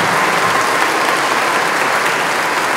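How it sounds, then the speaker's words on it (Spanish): Sustained, dense applause from a large audience after a youth symphony orchestra performance, a loud, even roar of many hands clapping with no pauses. "Por favor, otro aplauso para este trabajo que ha hecho para estos jóvenes."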